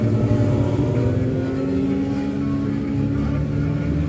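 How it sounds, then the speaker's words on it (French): Alfa Romeo 156 with a two-litre engine at a Japanese amateur track event, its engine humming steadily with a sustained tonal drone, loud and close, with no voices over it. "On dirait presque un moteur, on dirait presque un moteur Honda."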